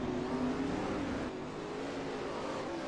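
A 410 winged sprint car roars around a dirt track in Australia, its engine note loud and close, then easing off as it moves away, with no speech.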